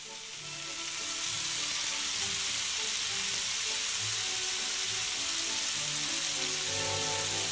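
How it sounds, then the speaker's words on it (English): Oil-marinated filet steaks sear in a hot pan, a loud continuous sizzle and crackle that holds steady throughout with no talking. "we just have the steaks marinated in the oil, and then we let them there for 1 minute on each side"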